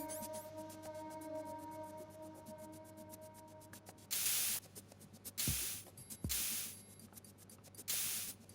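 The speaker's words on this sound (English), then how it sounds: "No importa, Mateo, tú solo echa el spray y ya." Spray can hissing in the video game Metal Gear Solid 2: Sons of Liberty, several loud separate bursts of airy spray over a quiet game background of steady tones and faint clicks.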